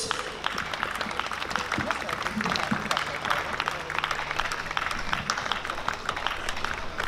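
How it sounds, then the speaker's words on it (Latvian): An audience at the Saldus Saule 2025 festival's open stage applauds the young performers with dense, sustained clapping from a crowd, while an announcer speaks over it. "Sagaidām ar aplausiem viņus visus"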